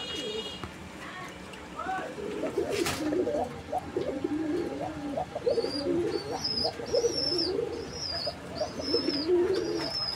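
Several male fancy Golla pigeons, a red Raj Golla pair among them, coo in repeated soft rolling phrases close by, with faint chirps and someone talking over the birds.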